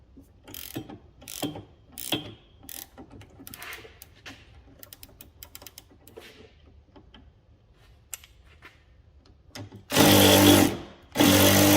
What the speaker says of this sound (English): And now we just need to tighten up the anti-roll bar links.